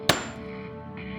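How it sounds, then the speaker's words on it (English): A hammer strikes a nail once in a sharp, loud single impact, followed by a lingering ringing tone and faint background hum. "The hammer struck once."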